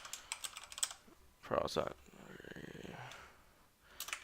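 Clicky typing on a new computer keyboard, quick bursts of keystrokes near the mic, then a pause while someone speaks briefly, with more rapid key clicks returning at the end.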